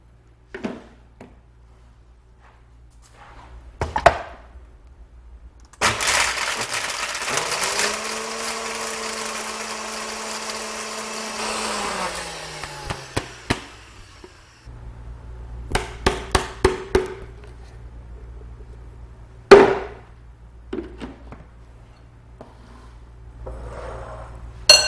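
Dried beef and unsweetened dried cranberries are ground for pemmican in a kitchen appliance: scattered clunks, then an eight-second high motor whir that winds down, followed by sharp knocks and taps of handling the machine and bowl.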